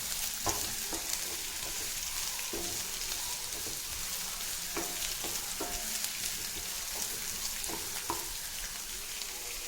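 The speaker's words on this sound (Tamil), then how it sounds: "ஸோ நீங்கள் டிரான்ஸ்பரண்ட்டாக வெங்காயம் வர வரைக்கும் அதை வதக்கிக்கோங்க" Onions sauté in a pan for paneer butter masala, with a steady sizzle and frying hiss and repeated short scraping knocks of a stirring spoon.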